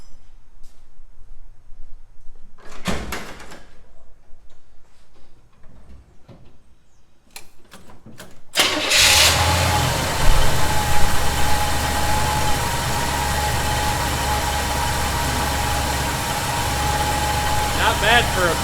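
A 1971 Chevy C10 pickup engine cranks and fires on a cold start about halfway through, then settles into a loud steady idle after some quiet clanks and movement, with a voice speaking over it.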